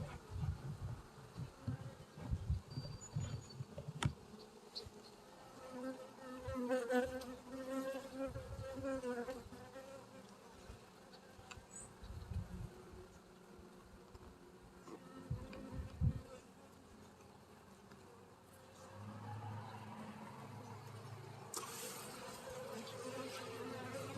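Honey bees swarm and buzz around an open hive while wax is scraped up, a steady close insect drone with handling noises and occasional bumps throughout.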